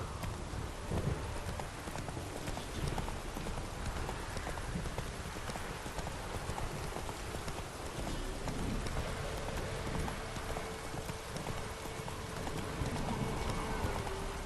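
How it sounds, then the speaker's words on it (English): A horse's hooves clip-clop in a fast, continuous gallop for the whole stretch in The Witcher 3, with steady rain-like background noise and no talking. "Whoa there, Roach"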